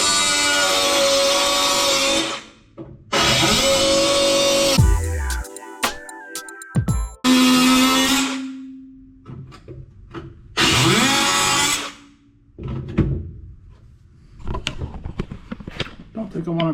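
An angle grinder with a cutting wheel cuts fiberglass on a 1965 VW Bug, loud whining bursts starting and stopping several times amid clanks and handling noises, close up, with no talking.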